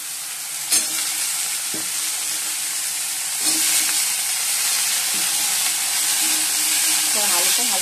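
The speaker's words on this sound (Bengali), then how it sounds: "আলুটা ভালো করে ভেজে নেব।" Potatoes frying in a pan tempered with bay leaf and cumin, a continuous bright sizzle with occasional clinks of a stirring spoon against the pan, close and steady throughout.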